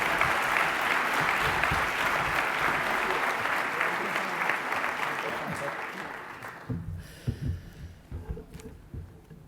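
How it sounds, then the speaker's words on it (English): A conference plenary audience gives loud, continuous applause as a speaker is called to the podium. The clapping fades after about six seconds into scattered claps and room noise. "A round of applause for her."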